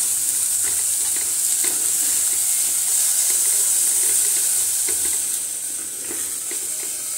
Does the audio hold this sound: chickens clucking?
no